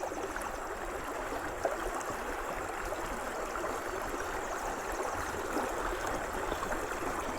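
River water is poured continuously while cooking outdoors in an uninhabited forest area, making a steady, rushing, gurgling wash with no talk over it.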